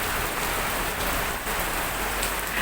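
Steady rain falls during the rainy season in Siem Reap, Cambodia, a dense continuous hiss of drops on surfaces, fairly loud and even throughout with no voices.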